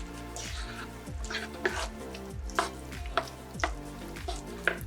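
Green beans tossed and stirred in a pan with onion on low heat while preparing Persian Loobia Polo: steady gentle frying sizzle with several soft scraping clatters of the utensil at a slow, repeated rhythm, close by.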